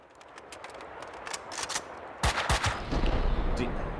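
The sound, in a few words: gunfire in Max Payne 2 video game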